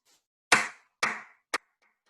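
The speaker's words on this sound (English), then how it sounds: "I would do the clap technique, something like this." Hands clap three times in a steady rhythm as a classroom attention signal. The claps are close and sharp, evenly spaced, with the last one shorter, and there is no talk.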